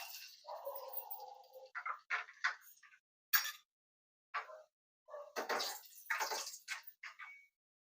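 Fenugreek seeds drop into hot oil and crackle in short sputtering bursts of sizzle and pops, close and fairly loud, with quiet pauses between bursts.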